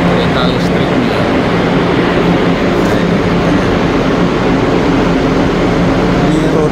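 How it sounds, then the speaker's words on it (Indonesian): An electric high-speed train with steel wheels runs toward Makkah, a steady, loud rolling rumble and hiss heard from inside the carriage, constant throughout with faint voices underneath. "Ini kereta listrik ini ya."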